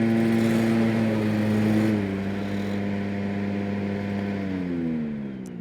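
A hybrid prototype lawn mower shown at Equip Expo 2025 runs with its electric blades on, a steady close engine drone with a hum that drops slightly in pitch partway through, then eases off at the end.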